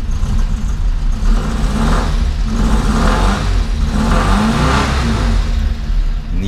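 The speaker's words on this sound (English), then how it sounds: "Nice little raspy exhaust, typical of a little early German subcompact car." A 1959 Goliath Tiger, a small early German subcompact car, idling and revving its boxer engine nearby, the exhaust raspy and buzzing with several rising blips of throttle over a continuous rumble.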